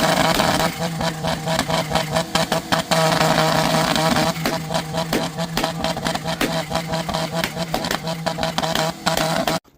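A loud modified Japanese car engine at a car show at Silverstone revs and crackles in rapid, uneven bursts, close and dominating, with brief gaps between pulses before it cuts off.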